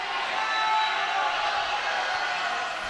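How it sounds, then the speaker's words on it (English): Spectators and teams at a high school boys swim meet cheer loudly for their swimmers, a steady, reverberant roar of crowd noise filling an indoor pool hall with voices blended in. "Crowd getting loud here"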